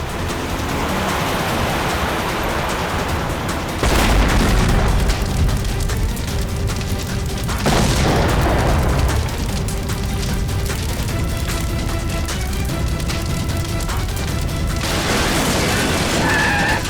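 A car bomb explosion in a TV drama lands as sudden booms and crashes over a dense, noisy dramatic soundtrack, with several heavy impacts spread across the scene.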